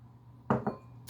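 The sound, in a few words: stirring pasta e fagioli in a crock pot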